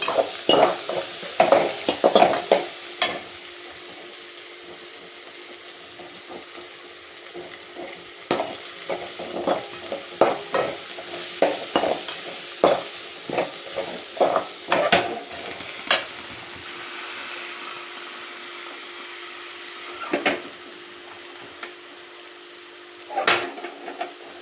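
Onions sautéing in a pan for a Tamil chicken gravy, a continuous low sizzle broken by frequent sharp scrapes and knocks of a spoon stirring against the pan, close and alone with no voices.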